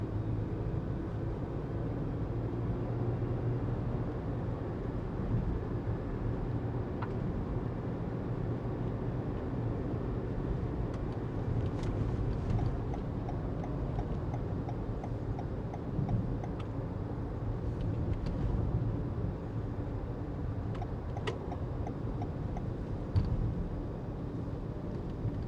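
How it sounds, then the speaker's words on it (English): Cabin of a 2022 Toyota Highlander SUV on the move: a steady, muted low rumble of road and engine noise throughout, with occasional faint clicks and no voices. "I'm gonna show you guys a little bit of a silent driving segment, so you guys can listen to the car"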